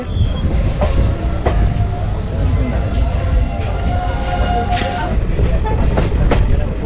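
A crowded passenger train runs near Dalgaon station in North Bengal, wheels rumbling loudly with sustained high metallic squealing and occasional clicks, a continuous heavy roar throughout.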